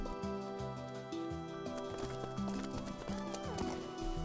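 A Minecraft horse's hooves clip-clop in light, irregular taps, quiet beneath steady tonal game music and fairly distant in the mix.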